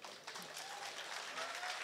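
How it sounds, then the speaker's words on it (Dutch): An audience at a Dutch literary evening applauding a performer named Brittany, a brief, fairly faint wash of many hands clapping steadily. "Mag ik een daverend applaus voor Brittany?"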